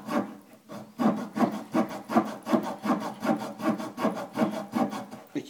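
Small folding saw blade of a Victorinox Swiss pocket knife cutting a dry wooden stick about 2 cm thick, with steady back-and-forth rasping strokes, roughly a dozen even cycles, close and alone.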